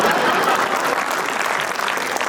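An audience at a poetry festival bursts into dense, continuous applause, loud and full from start to finish with no pauses.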